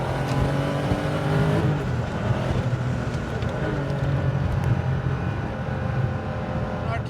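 Modified 1985 Porsche 930 Turbo with a 3.4-liter engine driving on a road test, a steady loud engine drone with shifting harmonics throughout, the pitch easing and climbing as it handles corners.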